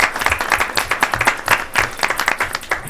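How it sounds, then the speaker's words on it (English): Audience applause at a transit board of directors meeting, a steady wash of many hands clapping at moderate loudness with no voices over it. "if they'd like to stand up for a little round of applause."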